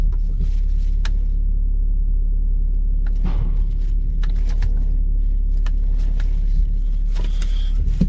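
BMW G20 330d diesel car idling and rolling into a workshop: a steady low engine rumble with scattered clunks and mechanical knocks over it, close and fairly loud, no talk.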